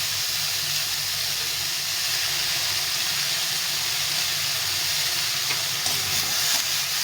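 Pumpkin greens and lentils fry in a pan with a steady, even sizzle and hiss that carries on unbroken, joined by a couple of faint scraping stirs near the end.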